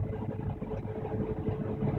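An autonomous tractor pulling a grain cart alongside the harvest, its engine running with a steady mid-pitched drone and no break over the short stretch.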